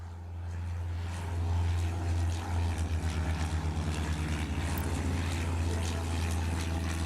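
Droning propeller aircraft engines from a 1920s-era airport management game, a steady low hum with pulsing beats that swells after the first second and holds, with no talking.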